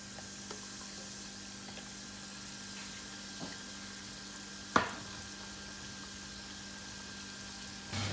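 Pieces of chicken deep-frying in hot oil for popcorn chicken, a steady low crackling sizzle throughout with a few soft clicks and one sharper knock near the middle.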